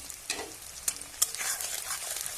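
Tomatoes hitting hot oil with onions, a bright close sizzle with a few sharp spatters and stirring scrapes as the frying settles into a steady crackle.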